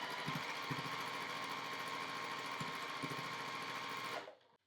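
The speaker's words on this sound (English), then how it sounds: "and sew that 1/4 inch seam." A sewing machine runs steadily as it stitches a quarter-inch seam on a quilt border, a continuous close whir that holds for about four seconds and then winds down to quiet.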